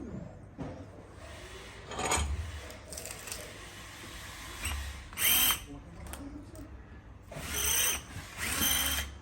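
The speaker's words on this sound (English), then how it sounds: "And then go through there with the drill" Power drill, a Milwaukee, boring through wood at a workbench, heard in several short whirring bursts separated by pauses with small handling knocks, close and moderately loud.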